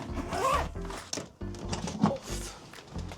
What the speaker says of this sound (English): it's not gonna stay like this once I zip it up